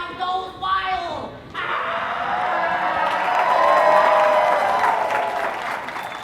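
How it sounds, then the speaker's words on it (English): A school stage audience at a high school production of The Addams Family breaks into applause, cheers and screams, swelling into a loud, dense roar after a brief vocal outburst at the start. "The crowd goes wild."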